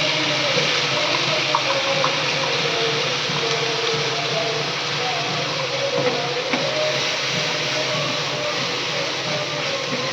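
Spice paste hits a little hot oil already holding whole cumin and bay leaf in a pan for a prawn and pointed gourd dish, setting off a loud, steady, close sizzle that runs without a break.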